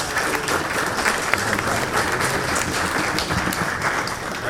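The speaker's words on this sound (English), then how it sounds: "A round of applause" Conference audience at a development-financing meeting applauding the panelists, a steady, dense wash of clapping from a room full of people lasting the whole few seconds without a break.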